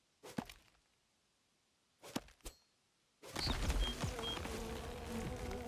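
Buzzing of bees in the survival sandbox game Len's Island, a steady droning swarm that rises abruptly after a few brief swishes and hits, continuing loud and close to the end.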